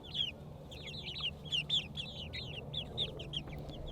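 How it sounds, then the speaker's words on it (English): Meat chickens in a coop give off a rapid series of high, chirping peeps and clucks, close and moderately loud. The calls overlap in busy bursts over a low background hum. "the chicks outside, the meat chickens outside."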